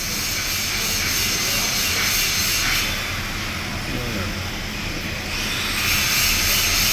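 A Hypertherm plasma cutter cycles its air supply, giving a loud, steady rushing hiss and whoosh that holds without break, slightly swelling and easing across the span.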